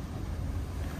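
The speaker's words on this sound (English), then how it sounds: "it's very windy right now" Steady, strong wind roars across the microphone with a constant broadband rush and low buffeting, on the Carnival Panorama cruise ship at sea.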